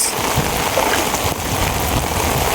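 Heavy monsoon rain pouring onto a wetland during village net fishing, a loud dense continuous roar of drops, close and unbroken with no voices.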